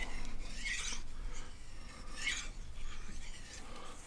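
Helle Nord knife blade rasping freehand across a fine whetstone, two bursts of steady scraping strokes, fairly close and moderately loud with no talk.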